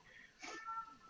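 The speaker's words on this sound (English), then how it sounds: "Excuse my cat for yowling." A pet cat yowls once indoors, a short, fairly quiet drawn-out cry in a calm room.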